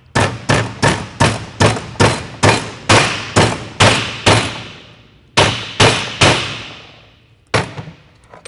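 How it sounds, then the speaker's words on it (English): A ball peen hammer strikes a metal seal ring about fifteen times, loud close clanging blows in a quick steady rhythm, then a pause and a few more spaced hits, each ringing briefly. "take a ball peen hammer,"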